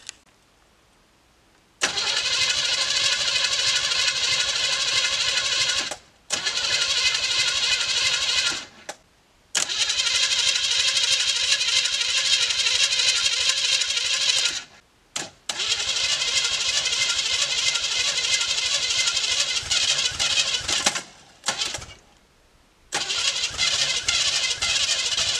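A 1972 GMC custom dump truck engine cranks and fires up with a loud, close roar, running in several long bursts broken by brief cutoffs as it stalls and is restarted, with no talking.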